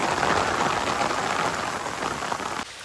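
Steady rain pours down in fog, a dense continuous hiss of drops on surfaces that drops slightly in level near the end.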